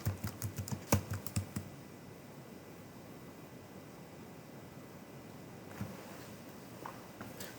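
A quick flurry of computer keyboard keystrokes entering a password at the start, then mostly steady background hiss with a few isolated key taps later.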